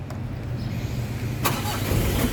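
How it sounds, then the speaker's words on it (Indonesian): A Mitsubishi L300 diesel pickup engine cranks and catches, a short burst followed by a rising, steady rumble close by. "Nah, oke, sekarang kita coba nyalakan mobil"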